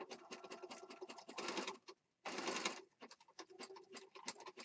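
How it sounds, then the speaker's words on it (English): A sewing machine zigzag-stitching around the outer edge of a small fabric piece gives rapid, close mechanical chattering in bursts, with a brief stop in the middle before stitching resumes. "All I'm going to do is come in here and zigzag stitch right around this outside edge."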